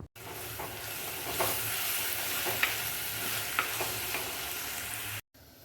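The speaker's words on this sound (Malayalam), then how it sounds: "ഇടയ്ക്ക് നമുക്ക് അടപ്പ് തുറന്നു കൊടുത്തൊന്ന് ഇളക്കി കൊടുക്കണം." Sliced onions cooking in coconut oil in a covered pan for Kerala ulli theeyal, a soft steady sizzle with a few light scraping stirs, fairly quiet throughout and cut off abruptly near the end.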